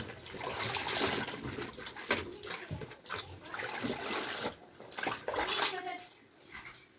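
Clothes are dropped into a washing machine already filled with water, producing splashing and sloshing in uneven bursts up close while someone talks over it.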